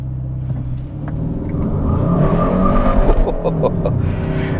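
A 2021 Hyundai Sonata N-Line 2.5T with 8-speed wet dual-clutch transmission launches hard, its engine rising from a low rumble into a loud, climbing roar heard from inside.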